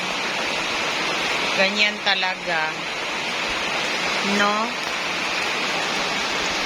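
Steady rain falls in an even hiss over a garden, heard continuously while a person talks briefly over it.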